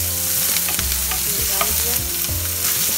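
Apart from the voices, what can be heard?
onion, ginger, garlic frying in oil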